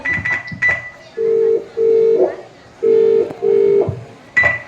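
A phone ringback tone repeats in paired beeps and is never answered, with brief talking at the start and end.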